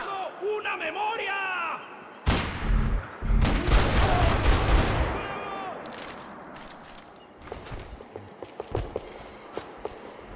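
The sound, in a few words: gunfire in video game Max Payne 3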